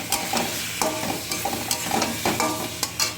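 New potatoes are stir-fried in a pan with ginger garlic paste, turmeric and garlic, a steady close sizzle broken by repeated scraping strokes of a spatula.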